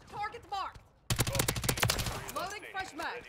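Rapid automatic gunfire from a VTOL killstreak in Call of Duty MW3, a loud dense burst of repeated shots lasting about a second and a half, with a person talking before and after it.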